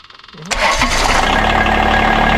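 A Kubota diesel tractor engine cranks briefly on the starter, then catches and settles into a loud, steady, close diesel idle.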